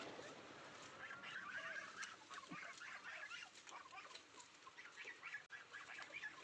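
Chickens cluck and chatter continuously at a distance in a village, a faint busy flock sound with no talking.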